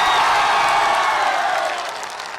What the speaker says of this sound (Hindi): बिहार वाली, यूपी वाली जो ताली होती है जोरदार बजा के बताइए